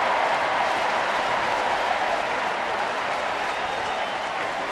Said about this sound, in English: Got everybody up and cheering a little bit.